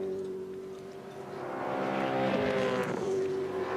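Race cars at the 2003 Bathurst 1000 roar past at high revs, a loud steady engine drone that swells and peaks as they go by, followed by a falling pitch sweep.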